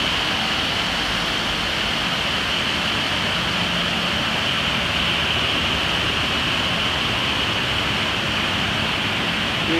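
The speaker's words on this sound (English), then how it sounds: "this is a Graco 1440 with undercarriage wash" A Graco 1440 wheel wash with undercarriage wash spraying water, producing a loud, steady, unbroken roar of high-pressure spray throughout.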